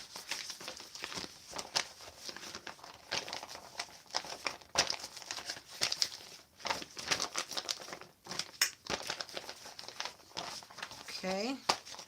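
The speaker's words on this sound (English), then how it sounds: "I get lotion on both sides of the paper, like that." Paper coated on both sides with lotion is crumpled and rubbed by hand, close, irregular bursts of crinkling and crackling with brief pauses, and a voice speaks over it.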